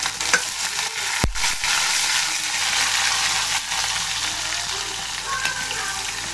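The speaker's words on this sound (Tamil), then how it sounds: "நல்லா கடுகு உளுத்தம்பருப்பை நல்லா பொரி விட்டுட்டேன்" Mustard seeds and urad dal splutter in hot oil with a continuous bright sizzle, one sharp loud pop early on and scattered lighter crackles throughout, close and without talk.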